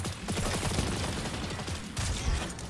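Gunshots in the shooter Destiny, a quick cluster of sharp firing bursts with a brief pause before another short volley, loud and close against busy game ambience.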